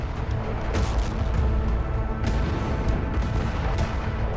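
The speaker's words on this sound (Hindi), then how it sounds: "अल नुसरत में मौजूद नुसरत कैंप पर भी इजरायल ने बमबारी की, जिसके बाद जबरदस्त धमाके देखे गए" Heavy blasts from Israeli bombing of the Nuseirat camp in al-Nuseirat rumble at a distance, dense continuous booming with a few sharper thuds standing out, no voices over it.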